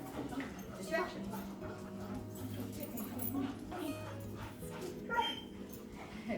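At a veterans' K9 training campus, a dog whimpers and lets out short yips, faint and intermittent beneath people talking nearby.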